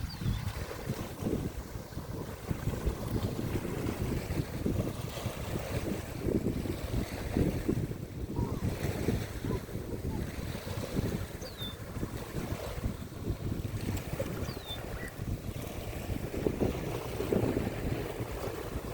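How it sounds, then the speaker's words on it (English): Wind rushes steadily across a lake with waves lapping, and gusts buffet the microphone into a continuous low roar that holds for the whole stretch. "So the wind has really got those waves going."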